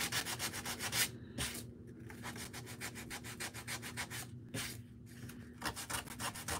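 Close hand sanding on wood, a steady rhythmic rasping of quick back-and-forth strokes with a few short pauses.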